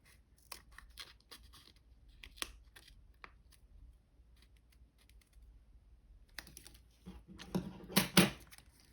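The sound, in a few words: scissors cutting paper for origami bat ears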